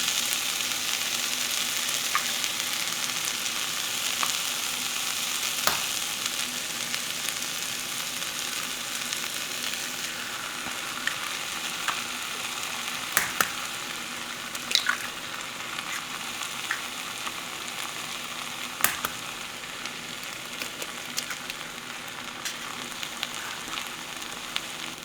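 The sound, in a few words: eggs frying in a pan on low heat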